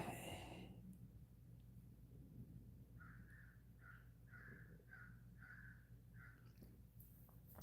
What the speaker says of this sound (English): that bird's distracting me. I don't know if you can hear it. I think it's a crow.